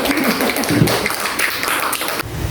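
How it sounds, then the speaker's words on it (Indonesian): Audience applause for Bu Uci at an education-module sharing session, a short burst of dense clapping from a group, loud and close, fading out at the end. "Aplaus dulu untuk Bu Uci."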